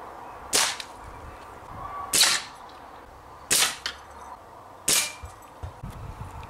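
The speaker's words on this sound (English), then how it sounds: "I'm going to just put the air rifle in a straight line to the spinning target and see if I can hit that at all" An air rifle fires four times at a spinning target, roughly every one and a half seconds. Each shot is a sharp, close crack with a short metallic ring after it. There are no voices.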